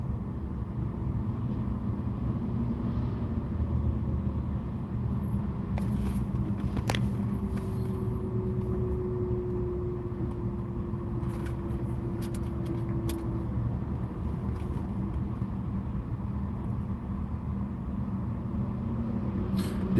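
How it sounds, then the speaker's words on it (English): Steady low rumble of cars idling and creeping in slow, heavy road traffic, continuous and fairly close, heard from inside a vehicle with no voices. "Yeah, it's big time traffic"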